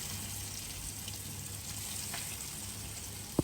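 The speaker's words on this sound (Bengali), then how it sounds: "এখন হলো ইলিশ মাছটা আমরা ভাজবো।" Hilsa fish frying in a pan, a steady low hiss of sizzling oil that runs throughout, with a single sharp knock near the end.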